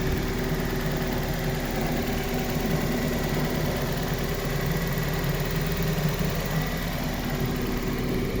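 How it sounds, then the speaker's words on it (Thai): A Toyota Corona with manual transmission idles steadily with a low, even hum and faint vibration, constant throughout with no voices. "เครื่องดีไม่ดังไม่ไอ ไม่ควัน ไม่มีหยดเยิ้มนะครับ"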